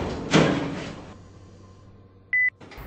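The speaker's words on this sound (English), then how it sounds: "Doors closing." Lift doors in a Roblox elevator game, Teknikk Lifts Polar Small Lift: a soft door clunk, then a quiet hum, followed by a short electronic double beep near the end.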